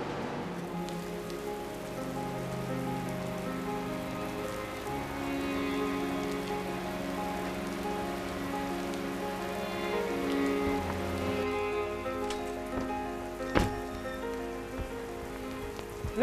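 Steady rain falls and patters on surfaces outdoors, a continuous close hiss lasting the whole clip with a few sharper drips and no talk.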